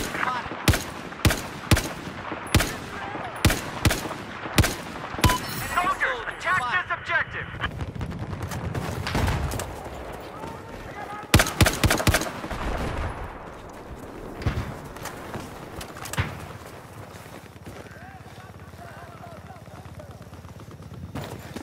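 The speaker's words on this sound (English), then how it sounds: "A hostile machine gunner." Machine gun fire from a hostile gunner in a combat video game, sharp loud bursts repeating in a quick rhythm early on, then scattered shots and heavier volleys over a noisy battle backdrop.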